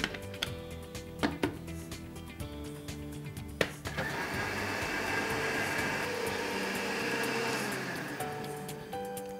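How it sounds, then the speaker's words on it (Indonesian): An electric blender whirs through a chocolate Frisian Flag sweetened condensed milk mixture for ice pops. A few sharp clicks and knocks come first, then a loud, steady motor drone runs from about four seconds to the end, with no talk. "Dan kita akan blender sampai halus."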